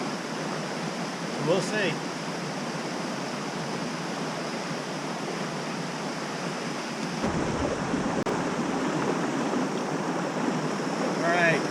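A creek rushes near a waterfall on a mountain fly-fishing and camping trip, giving a constant close wash of flowing water; a person speaks briefly over it.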